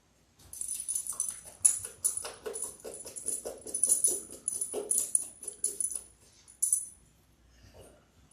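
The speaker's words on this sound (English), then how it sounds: "That's my dog doing dog things." A pet dog shuffling about with jingling tags and soft patter, giving a few faint whimpers at close range in an otherwise quiet room, ending in near silence.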